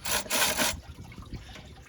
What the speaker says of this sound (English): And there goes the rest of our coolant.